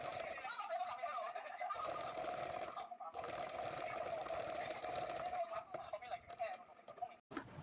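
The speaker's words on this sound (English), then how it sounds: "I'll stitch it all the way from here to the end by half of an inch." A sewing machine runs a long continuous seam on a fabric headband, a steady buzzing hum close by for most of the stretch, briefly pausing and faltering toward the end.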